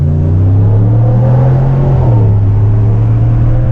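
A Dodge Charger engine pulls hard under launch acceleration, a loud, steady low rumble with a rising drone throughout and no talk over it.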